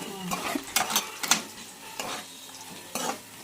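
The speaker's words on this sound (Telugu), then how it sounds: "ఇట్లా మెరూన్ కలర్ వచ్చేంత వరకు వేయించాలి." Fish or spices fry in a pan at home while being stirred, giving soft sizzling with intermittent scraping and clinking of a utensil against the pan, fairly quiet and close.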